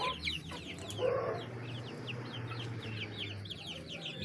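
A flock of about thirty baby chicks peeps continuously in rapid, high chirps nearby, with occasional low clucks from grown hens and no talking.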